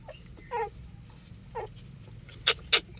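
Young puppies of a dog named Roxy, their eyes newly opened and nursing, let out a few short, thin whimpers and yips, spaced apart over a low background hum.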